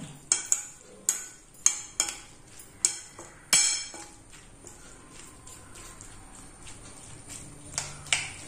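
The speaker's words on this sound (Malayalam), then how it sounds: "നന്നായിട്ട് ഇളക്കി കൊടുക്കുക" Spoon stirring vadukapuli lemon pickle with a pinch of turmeric in a pan, giving a run of sharp metallic clicks and taps against the pan, closer-spaced early and then quieter scraping, with no talk.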